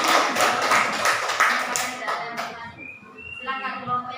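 Group applause for a team in an academic coaching session, with brisk clapping from a room of people that thins out and fades, followed by a short musical chime and faint voices.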